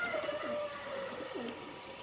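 A Deobandi pigeon coos nearby, repeating soft low rolling calls in a steady rhythm over a faint background hum.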